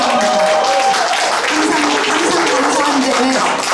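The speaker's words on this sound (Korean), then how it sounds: "여러분의 큰 박수 부탁합니다" Concert hall audience at a Korean art song recital claps together in a dense, steady wash of applause, with voices murmuring beneath the clapping.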